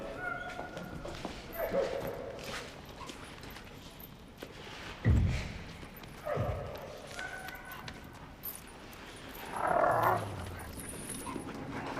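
Dogs bark and whimper in short scattered bursts, fairly near, over a low background rumble with an occasional thump.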